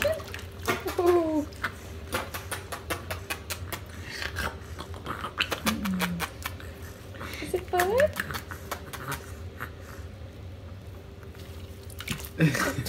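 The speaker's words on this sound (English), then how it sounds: "You splashing the water?" A child splashes water in a bathtub, with scattered splashes and drips over a steady watery background while an adult talks throughout.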